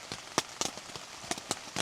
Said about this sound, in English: Listen to the rain hitting off the roof of the tent here.